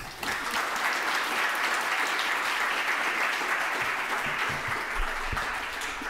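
A library audience applauds to welcome author Yiyun Li at a story hour, a full, dense burst of clapping that holds steady for several seconds and fades slightly at the end.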